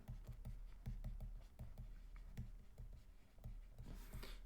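Marker or chalk tapping and scratching across a board during a high-school geometry lesson, a quick run of light strokes and taps close by with no talk over them.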